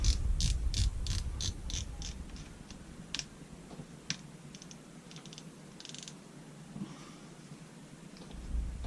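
Baitcasting fishing reel with its tension knob backed off: faint ticking clicks from the knob early on, then a soft whirring of the spool spinning freely, quiet and close.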